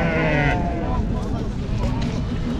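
Sheep at a busy livestock market in Taraz bleat near and loud at the start, then the pen noise and babble of people talking carry on underneath.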